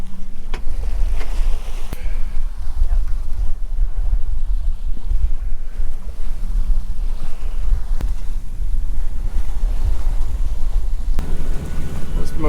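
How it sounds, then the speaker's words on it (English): Sailboat motor sailing in the British Virgin Islands: a steady low engine drone under constant wind buffeting and rushing water, loud and continuous throughout. "Was motor sailing the last little bit."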